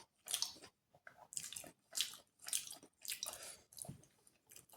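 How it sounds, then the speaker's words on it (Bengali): Close, quiet chewing of a meal, with wet, squishy bites coming in short bursts about every half second, no talking. "আমিও খাচ্ছি।"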